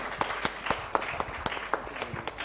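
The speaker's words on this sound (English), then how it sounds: "Let's have a round of applause" Sparse applause from a small conference audience during a felicitation of dignitaries at an international conference, with separate sharp claps in a loose rhythm, moderately distant, and no voices over it.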